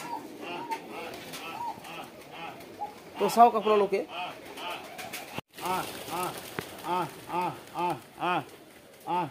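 Fancy and local pigeons on the ground at Barek-da's farm peck at scattered grain, cooing repeatedly in soft rolling calls close by while someone talks over them.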